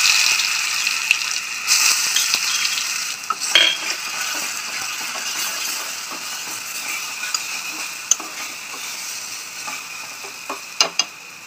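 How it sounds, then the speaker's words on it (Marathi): Ground ginger, garlic, coriander and green chili paste sizzles in hot oil in a pan for vada pav, with steady frying hiss and occasional clinks of a spoon stirring. "आलं, लसूण, कोथिंबीर, मिरची आपण वाटण केलेलं तर ते वाटून तळून घेऊया थोडं।"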